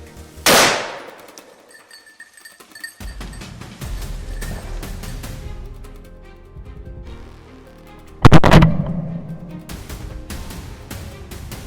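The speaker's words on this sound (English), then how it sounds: "When they were completely off guard, I locked onto the target and squeezed the trigger" Two loud, sharp rifle shots on a field during a feral boar hunt in California, one near the start and another about eight seconds later, each with a trailing echo and low ambient noise between them.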